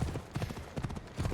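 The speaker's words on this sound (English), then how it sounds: "I need to take this horse either to Adonis or to the stable boy." Horse hooves clip-clop at a steady walking rhythm in the Assassin's Creed Odyssey video game, a few distinct thuds repeating close by and fairly quiet.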